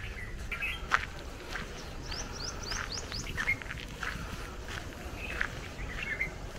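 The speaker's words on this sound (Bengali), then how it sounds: "বুলবুলি পাখির ডাক এগুলো।" Red-vented and red-crested bulbuls call around farm fields in the morning, a series of short bright chirps and whistled phrases repeating at moderate distance over soft background noise, with faint footsteps.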